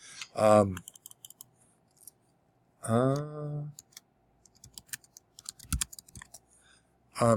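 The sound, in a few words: typing on a computer keyboard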